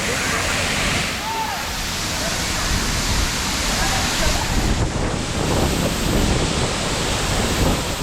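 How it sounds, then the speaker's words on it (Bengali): A waterfall in the Eastern Ghats in monsoon season rushes in a constant loud broadband roar, steady throughout, with slight wind buffeting on the microphone and no voices. "কি দারুণ ঝর্ণাটা, দেখো"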